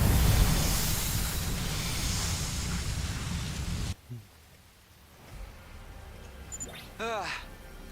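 Steady rain falling in the video game Last Defense Academy, a dense hiss that cuts off abruptly midway, followed by quieter ambience with brief tonal game sounds.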